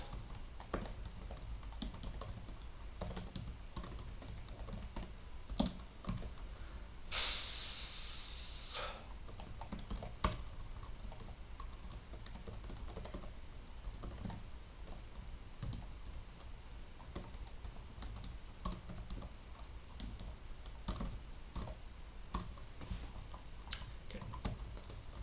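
Typing on a computer keyboard, quiet and close, with irregular bursts of key clicks continuing throughout, alone without talk.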